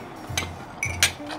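Glasses clinking together in a toast during a food chat, a few bright short clinks in quick succession, close and fairly loud, with no talking over them.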